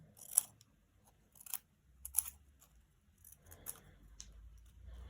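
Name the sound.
scissors cutting little paper triangles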